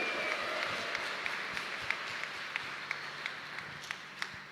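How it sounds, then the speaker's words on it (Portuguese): A church congregation at an evening Ascension Mass breaks into applause for Jesus, a soft, fairly distant patter of many hands with occasional sharper claps poking through, steady and unaccompanied by speech. "Brada uma salva de palmas para Jesus."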